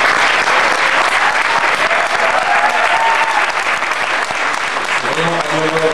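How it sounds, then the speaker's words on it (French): Sustained loud applause from a conference audience in Marrakech, thanking the speakers with dense, continuous clapping that carries on throughout and thins slightly near the end. "Un merci particulier à trois de nos conférenciers au niveau de cette deuxième édition, que je vous demande d'applaudir"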